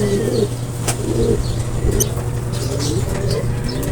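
Racing pigeons arriving home wet after a hard race, with soft wing flaps and cooing among other birds over a steady low hum, fairly close.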